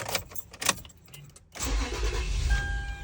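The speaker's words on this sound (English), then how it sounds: "we're gonna go ahead and start the truck" A fifth-generation Toyota 4Runner cranks briefly after a few clicks and catches, settling into a steady low idle that rumbles on alone.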